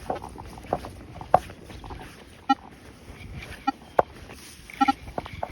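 Manticore metal detector reacting to electric-fence interference outdoors on a sunny winter day: sparse, faint, irregular pulses and beeps over quiet background hiss.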